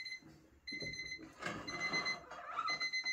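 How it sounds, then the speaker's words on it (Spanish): A photography darkroom timer goes off during a vintage 1851-technique print session, its electronic beeping ringing out in repeated steady bursts close by, with soft handling noises around it. "Ahora se oirá el temporizador."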